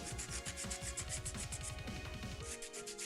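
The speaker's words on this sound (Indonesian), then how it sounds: "yaitu mengamplas bagian bawah sini biar rada halus" Wall sandpaper scrubs the plastic underside of a Fantech Mizu 81 mechanical keyboard in quick, rhythmic back-and-forth strokes, close and raspy, stopping briefly near the end.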